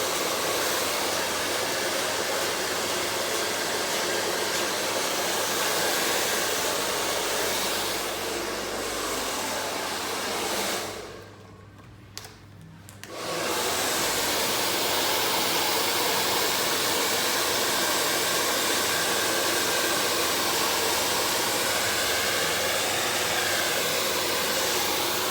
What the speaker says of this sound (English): I'm just blow drying the roots and then angling it